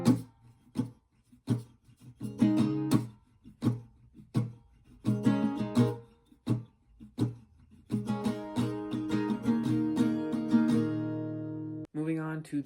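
Acoustic guitar playing the first half of verse 2 of a song: rhythmic strummed chords with sharp attacks and short gaps, growing fuller and more continuous in the second half before a brief pause and a final strum.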